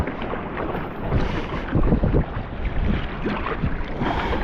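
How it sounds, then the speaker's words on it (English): A kayak heads out through ocean surf, with broadband water wash and wind buffeting the microphone, choppy splashes of paddling and waves rising and falling steadily and fairly loud throughout, with no talk. "we'll just go out and drop this guy and come back"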